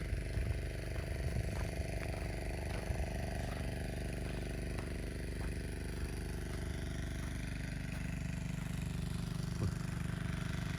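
A water pump engine pumping water out of a canal chugs steadily at an even idle throughout, with faint ticking and outdoor background noise.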